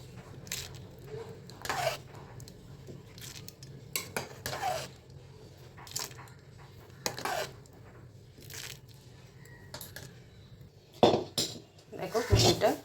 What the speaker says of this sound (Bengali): এবারে আমি একটা সার্ভিং বোলে ঢেলে দিচ্ছি